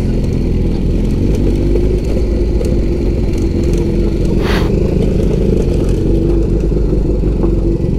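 Honda CB1000 motorcycle ridden off-road, its engine droning loud and close at a steady pitch with light clatter from the bike and terrain and one brief rising whoosh midway.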